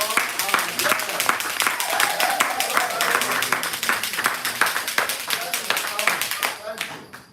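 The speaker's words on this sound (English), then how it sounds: "A round of applause for our guests." An audience at a Toastmasters meeting claps for its guests, producing dense, continuous applause from many hands that stays close and steady for several seconds before fading out at the end.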